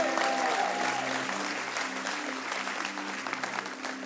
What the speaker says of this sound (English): Can we give Jesus a huge round of applause?